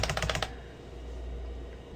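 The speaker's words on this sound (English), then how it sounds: "some guy is just typing this and then he's hitting F3 and enter" Typing on a computer keyboard under DOS, ending with the F3 and Enter keys, heard as a quick burst of close, crisp key clicks for about half a second before everything drops to a low, steady hum.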